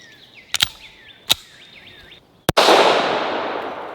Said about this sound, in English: This number 4 coming out of a 9mm, there's just not a lot of shot to it.